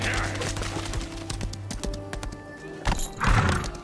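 Horse hooves clatter in a steady clip-clop gallop in the Lost Ark video game, mixed with game music and effects, with a brief whinny-like burst near the end.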